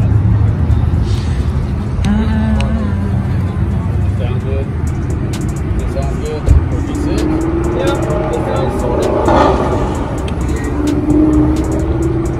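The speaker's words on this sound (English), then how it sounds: "Sound like he's speeding down there." A car speeds past on the road outside, its engine swelling and fading under near voices of people talking inside a vehicle, with steady road rumble throughout.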